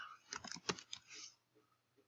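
Brief burst of typing on a computer keyboard, a quick cluster of close, quiet key clicks followed by a couple of faint stray taps.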